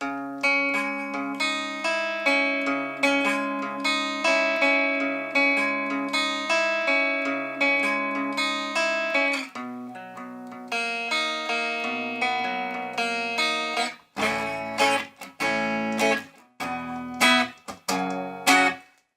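An electric guitar plays a repeating melodic riff with bright, sustained processed tones, then shifts into choppier, stabbing chords toward the end.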